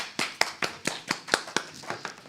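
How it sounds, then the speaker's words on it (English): A small gathered audience claps for the announcements at an open discussion meeting, about ten distinct, fairly even claps over two seconds, close and moderately loud with no talking. "We clap for the announcements."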